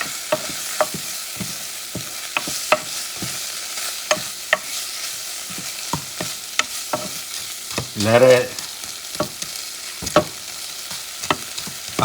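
Frozen sweet pepper fries in a pan over medium heat, with a soft background sizzle broken by frequent sharp pops and spatters, plus one louder scraping stir partway through.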